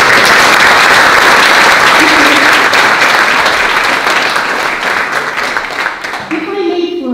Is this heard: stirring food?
no